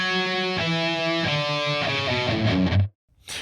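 An electric guitar plays a harmony part from a song, sustained melodic notes stepping downward in pitch, close and clear, cutting off abruptly near the end.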